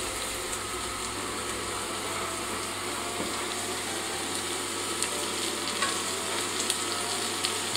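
Red onion compote cooking in a pan as it is stirred, a steady sizzle and bubbling with faint scraping of the spoon, close and continuous, with no talking.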